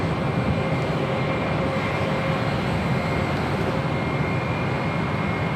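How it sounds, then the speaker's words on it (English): A Southwest Airlines Boeing 737-700 arriving on 25 left at LAX gives a loud, steady jet engine roar with a faint tonal whine running through it, close and unbroken. "Next arrival on 25 left here on the south side is Southwest Airlines flight 894 coming from Albuquerque, New Mexico, 737-700"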